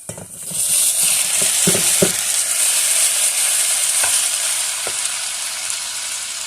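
Tomatoes hit a hot pan and fry with a loud, constant sizzle, with a few sharp scrapes and taps of a utensil stirring near the start.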